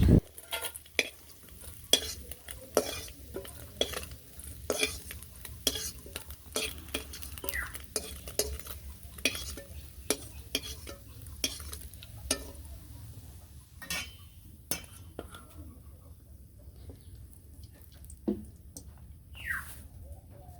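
Pumpkin pieces go into hot oil left from frying fish, a soft sizzle under repeated scraping and clinking of a spatula against the pan, with a few quieter pauses.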